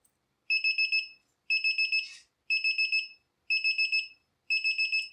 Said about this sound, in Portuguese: Interrompeu o laser, o alarme toca.